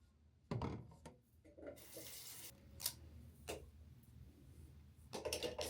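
A bathroom sink tap runs while someone washes their face at home, giving several short bursts of splashing water between quieter gaps, fairly close and with no talking.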